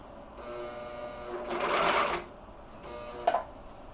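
A serger stitching a rolled hem on fabric napkins, running in short close bursts with a louder whirring stretch in the middle and a brief mechanical clack near the end.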